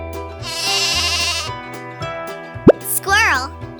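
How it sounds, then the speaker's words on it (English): A lamb bleats once in a farm-animal sound lesson for children: a short wavering cry near the end of the clip, set against a cartoonish musical backing and other brief sound effects. "How does a lamb sound?"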